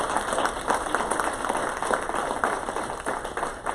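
An audience claps in a dense, steady patter of many hands, moderately loud, with no voices over it.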